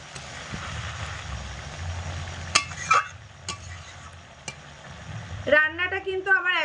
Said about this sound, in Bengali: ঢাকা চাপাটা খুলে দেব হালকা একটু নেড়ে চেড়ে দেবো